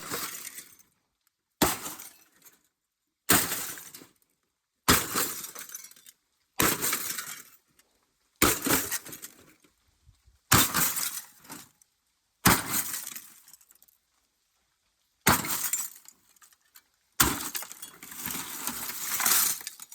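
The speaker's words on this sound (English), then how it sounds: "You guys also like the sound of breaking glass?" Glass breaking over and over in a junk-filled dump, about ten separate sharp shattering crashes spaced roughly two seconds apart, each followed by tinkling shards settling, loud and close with no voices.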